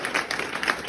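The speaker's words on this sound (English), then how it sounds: "Let's give one more round of applause for our two acts," Audience at a standup comedy show applauding the acts, a dense wash of quick claps lasting about a second, moderately loud and close.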